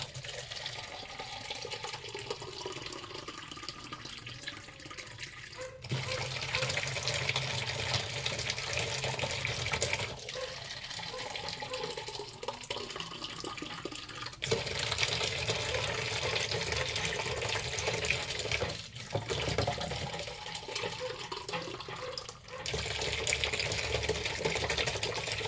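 Tap water runs continuously into a container while making suman, a steady splashing hiss that shifts in level every few seconds as the flow or vessel changes.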